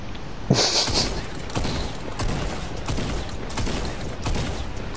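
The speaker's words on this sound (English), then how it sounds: "I heard gunshots" A burst of rapid gunfire with sharp cracks and a thud, followed by continued scattered shots and noisy chaotic game sounds.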